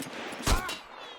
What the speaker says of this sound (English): And we think we ricocheted that shot